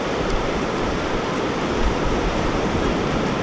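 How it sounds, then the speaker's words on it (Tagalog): Strong ocean waves at Sabangan Beach in Agno, Pangasinan, a loud broadband roar of surf that stays close and continuous, with no voices. "Kita natin dito, malakas yung alon."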